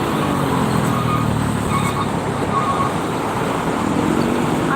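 Cars pass along a busy toll road near a rest-area entrance at night, a steady broadband rush of tyres and engines that stays loud and continuous throughout, with no talking.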